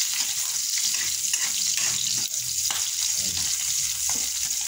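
Onions hit hot oil in a pan and sizzle loudly and steadily at close range, a dense hiss with occasional stirring scrapes running throughout.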